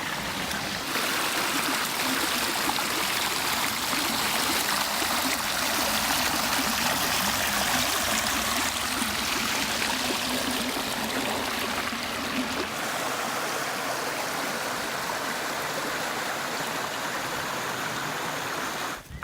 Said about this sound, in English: There's a nice waterfall right there when there's a lot of water.